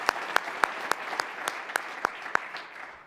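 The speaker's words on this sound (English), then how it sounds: "If I could just ask for a round of applause for both Amanda and Dan." An audience at a club speaking event gives a short round of applause, with steady clapping and several crisp individual claps standing out, tapering off at the end.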